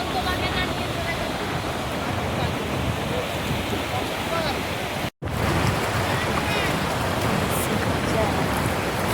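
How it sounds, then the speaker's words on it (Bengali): Waves breaking on Digha beach form a loud, steady roar of surf mixed with strong wind buffeting, continuous throughout with one brief dropout. "দেখো কি পরিমাণে ঢেউ আসছে, ঢেউ তোমাকে না নিয়ে চলে যাচ্ছে।"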